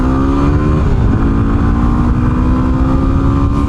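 A Yamaha WR250R dual-sport motorcycle engine held at wide open throttle, a loud, steady, buzzing drone with a rising pitch that stays constant and close throughout.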